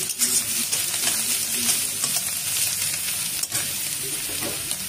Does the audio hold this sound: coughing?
no